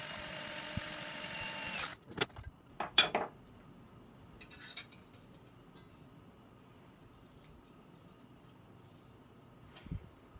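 An electric drill bores a hole through a part for a beekeeping oxalic acid vaporizer, running steadily for about two seconds before stopping, followed by a few sharp clinks and faint handling taps.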